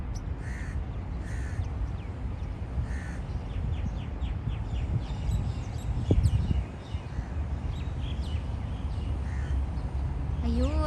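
Several crows caw repeatedly in short harsh bursts, some near and some farther off, over a steady outdoor background hum with a brief bump of noise midway.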